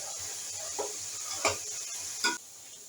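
Chong, the flower stalks of onion, sizzling in hot oil in a pan, with a steady faint frying hiss and a few brief louder stirring clatters; no one talks.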